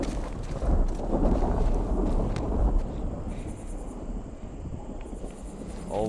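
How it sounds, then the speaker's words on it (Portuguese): A deep rolling rumble of thunder sounds over steady rain in the video game The Last of Us, loud at first and slowly fading into a softer rainy hiss. "Olha o barulho, trovão da chuva."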